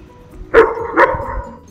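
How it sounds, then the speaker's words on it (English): A German Shepherd barks twice on command, loud and close, with a short pause between the sharp barks. "That one is barking on command."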